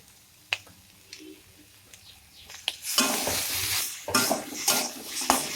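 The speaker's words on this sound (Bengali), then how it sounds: "এবার আমি এর মধ্যে একটু আদা রসুন পেস্ট দেব, অল্প করে।" Ginger garlic paste goes into a pan for an eel fish curry, and after a few light clinks a sudden loud sizzle starts, broken by scraping stirs that bring fresh bursts of frying, all up close with no talking.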